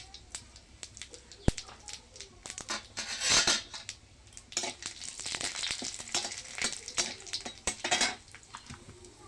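Dried red chillies, bay leaves and whole cumin seeds hitting hot oil in a frying pan, crackling and sizzling in bursts with a few clinks of a utensil against the pan.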